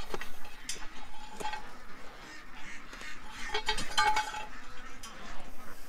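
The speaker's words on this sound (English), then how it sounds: "That noise you hear is Doug's anchor" Irregular metallic clinks and jingles sound close by over a muffled background with faint voices, the clinking clustering in short bursts.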